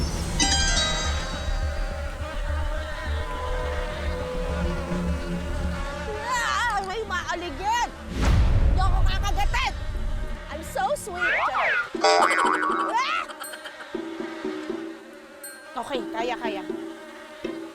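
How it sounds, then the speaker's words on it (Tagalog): Wild honey bees hover and buzz during a wild honey harvest in Bataan. Their droning sits under people talking and exclaiming, alongside other shifting, swooping sounds. "May mga umaaligid na mga bubuyog."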